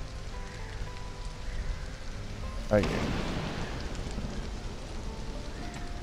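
Steady rain hisses throughout in Stranded: Alien Dawn, with a sudden rumbling crack partway through and someone speaking briefly over it.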